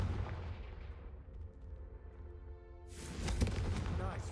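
A Confringo fire spell in the video game Hogwarts Legacy blasts candelabras, and after a quieter stretch a loud, bright crackling burst erupts with a rumbling, fiery roar that stays strong to the end.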